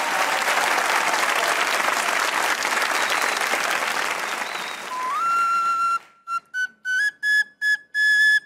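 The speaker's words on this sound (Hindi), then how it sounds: "तालियां भाई अदनान भाई के।" A studio audience at a Pakistani TV comedy talk show claps loudly and steadily for several seconds. The applause then fades into short bursts of high whistle-like tones.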